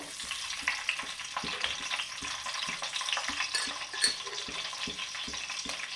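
Mustard seeds, thinly slit green chillies and onion paste fry in hot oil for a Telugu-style spicy tuna curry, giving a dense, steady crackling sizzle with occasional soft stirring taps throughout.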